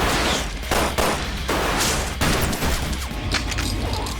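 Rapid volleys of gunfire from Resident Evil Code: Veronica X, several loud sharp bursts in quick succession with crashing impacts between them, close and continuous throughout.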